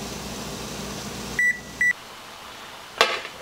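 An electronic kitchen timer gives two short, clear beeps while broccoli blanches in boiling water, followed by a quiet pause and then a single sharp clatter.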